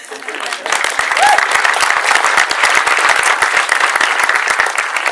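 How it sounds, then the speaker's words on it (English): Loud applause from an audience after a film screening swells in quickly and holds as a dense, close clatter of many hands, with a brief voice near the start. "You can applaud."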